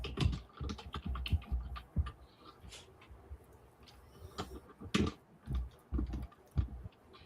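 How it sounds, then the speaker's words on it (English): Rapid typing on a sticky computer keyboard, uneven bursts of close clicking keystrokes with brief pauses and occasional heavier thumps, no talking. "I have a sticky keyboard"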